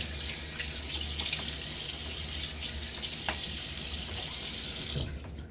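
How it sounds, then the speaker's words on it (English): Tap water runs steadily into a sink and is splashed on the face before a wet shave with a Gillette Tech razor, a continuous close rushing that cuts off abruptly near the end. "So I'm gonna throw some water on my face."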